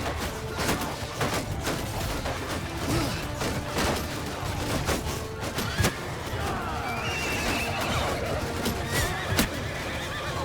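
Horse neighing amid the clamor of a Mount & Blade II Bannerlord battle, with hoof clip-clop and crashing combat sounds in a dense, continuous mix; several whinnies stand out at moderate distance.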